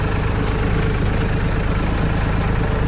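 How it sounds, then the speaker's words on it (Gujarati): A farm tractor at a farmyard heading out to load manure, its diesel engine running with a steady low throbbing rumble, loud and close and unbroken throughout. "અમારો ટ્રેક્ટર જાય છે."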